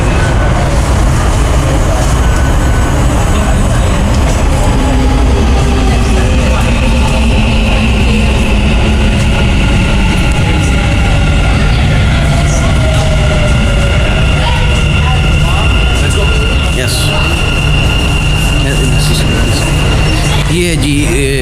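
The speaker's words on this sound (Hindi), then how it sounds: "ये मेट्रो जा रही है और हम इंतज़ार करने आने वाली मेट्रो की" A Dubai Metro train pulls away from a station platform with a loud, close, continuous rumble, while a sustained high wheel squeal and whine rise and fall over it.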